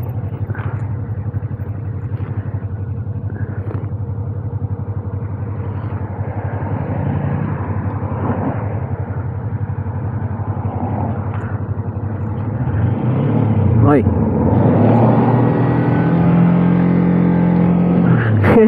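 A Suzuki GSX-R sportbike engine rumbles steadily nearby, its low drone swelling louder and rougher toward the end as it is ridden.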